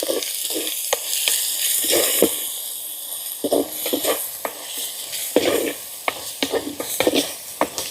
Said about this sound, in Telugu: ఒక చెంచా ధనియాల పొడి వేసుకొని బాగా కలుపుకోవాలండి